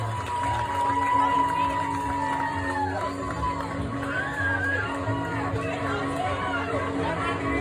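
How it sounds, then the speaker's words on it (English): Crowd at an old-school pinup contest cheering and whooping for a contestant, a dense, steady roar of voices with shouts rising over it and continuous chatter throughout. "Let's give a big round of applause for the lovely Miss Maggie Rose."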